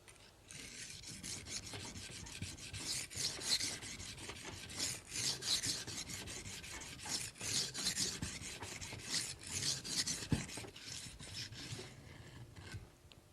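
A knife blade is drawn over a sharpening stone in continuous rhythmic rasping strokes, close and steady, removing and raising a burr on one side of the edge.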